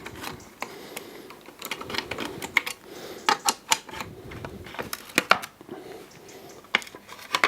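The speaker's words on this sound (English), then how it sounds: "So now we need to undo these three Allen headed bolts to get the side cover off." Three Allen head bolts being undone on the side cover of a Triumph Scrambler 1200 XE/XC motorcycle, with quick, close metallic clicks and ratchet-like ticking in uneven bursts over faint background noise.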